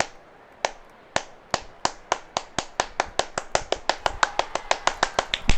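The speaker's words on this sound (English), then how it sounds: "We need to clap him up before he gets angry." Rapid claps from the World Games Paris video game, about two dozen sharp, even hits that speed up slightly as they go, loud and close with no talk over them.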